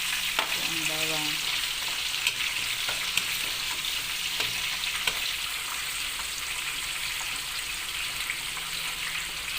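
Garlic frying with pork in a pan, an even, loud sizzle throughout with a few light stirring ticks and knocks, no speech.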